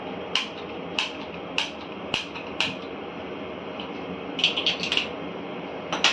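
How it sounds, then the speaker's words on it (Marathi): Sharp clicks of a gas stove burner's igniter, several spaced out and then a quick cluster near the end, in a home kitchen while a pan is set out for frying coriander bhaji. The clicks are crisp and close over faint background hiss. "गॅस पेटून घेऊया."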